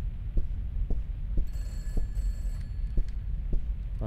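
A telephone rings inside Peter's house in a horror video game, a faint electronic trill over a steady, thumping heartbeat-like pulse, with no one talking.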